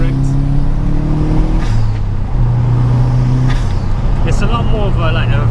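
A Subaru Impreza P1 with around 320 horsepower pulls under power while driving, engine tones rising and dropping through shifts with sharp bursts between, loud and close inside the car.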